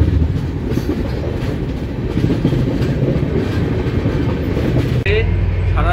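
Indore–New Delhi Superfast Express running between stations in India, heard from inside a carriage: a loud continuous rumble with rhythmic clickety-clack of wheels on rail joints, with a sharp shift near the end.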